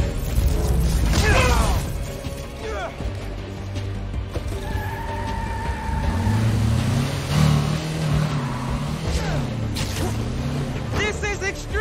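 Car driven recklessly through city streets in Spider-Man Miles Morales, engine revving and mechanical clatter alongside crashes, with music and shouted voices layered over the driving throughout.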